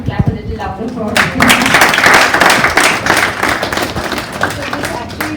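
Clapping from a conference audience at a Handloom Day celebration, rising after a brief spoken line and holding as a dense, steady patter of many hands over the remaining seconds.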